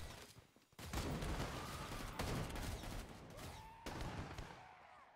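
Faint gunfire in Killing Floor 2, aimed for headshots from a low position: sharp bursts of shots separated by brief pauses, set back under game ambience.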